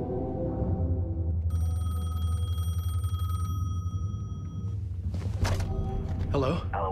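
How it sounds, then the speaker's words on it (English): A telephone rings with a repeated electronic trill inside the video game Alan Wake 2, heard over a low droning game soundtrack before a few thumps and rustling sounds toward the end. "Phone was ringing."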